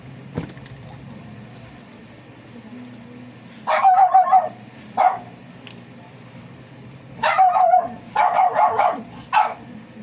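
A dog barks in short bursts, a few separate volleys of sharp barks over a low steady rumble of background noise.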